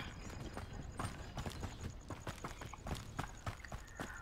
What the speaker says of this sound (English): What is that noise? Sounds like a horse.